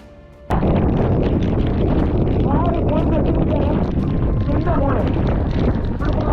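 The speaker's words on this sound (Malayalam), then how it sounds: "നല്ല മഴ നല്ല മഴയുടെ കാറ്റ് മഴയും നല്ല കോളയും" Strong wind and heavy rain roar at a waterfall viewpoint among the clouds at Palozhukum Para. A loud, steady broadband rush starts abruptly after a brief quieter moment and continues unbroken, with faint voice-like traces within it.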